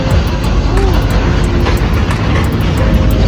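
An aircraft roars at an airport on a cold, very windy winter day, a loud, constant, close-up rush of engine and wind noise throughout.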